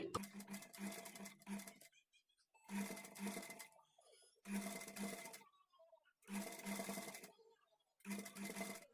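A sewing machine stitching piping around a garment neckline runs in five evenly spaced bursts of rapid stitching, each about a second and a half long, separated by short quiet pauses.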